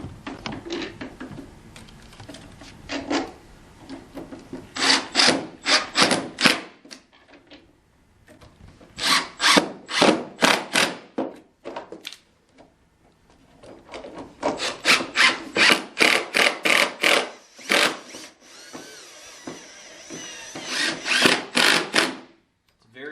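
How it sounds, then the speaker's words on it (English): Screws being driven into a wooden bed panel of a desk wall bed with a power tool: repeated bursts of whirring and rasping grind, in rhythmic clusters with short pauses between, fairly close and clear with no talk. "Easy to run these screws all the way through the panel, so do not over-tighten."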